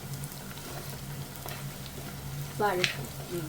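Small onions sautéing in a pan as the base for a sardine curry give a steady, close sizzle with a brief stirring clatter near the end.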